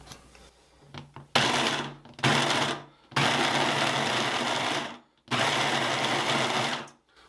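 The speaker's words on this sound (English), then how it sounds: "we're going to put the lid in here on our food processor" A Ninja food processor pulsing butter into pebble-sized pieces: several short whirring bursts, growing from quick pulses to longer runs of a few seconds each, loud and close, separated by short gaps.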